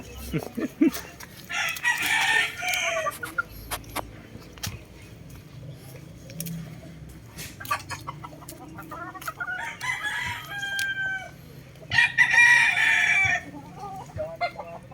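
A feisty hen clucks in loud, harsh bursts at close range, with cackling calls rising in separate spells between quieter stretches of scratching and faint background noise.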